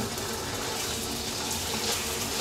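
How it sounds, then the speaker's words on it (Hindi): Two beaten eggs going into hot cooking oil in a wok make a steady, loud, continuous rushing sizzle that fills the whole moment, with no voices over it. "और तेल गर्म हो जाने के बाद हम इसमें दो अंडे फेटे हुए इसमें डाल देंगे"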